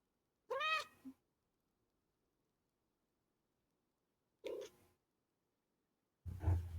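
A cat named Bean meows and chirps in a few short bursts, close and fairly quiet, with long silent gaps between the calls.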